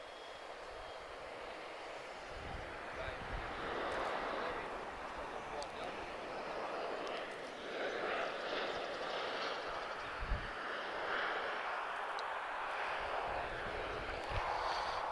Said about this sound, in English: I assume it's a C-130, guys.